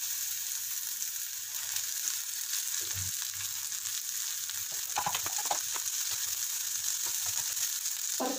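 Capsicum and cooked beef frying in oil on a tawa give a steady sizzle throughout, with brief stirring scrapes and clatter in the middle and near the end, close and moderately loud.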